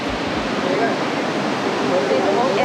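Rushing river water by a waterfall in Rincon de la Vieja near a Costa Rican volcano, a steady broadband roar that holds close and even throughout.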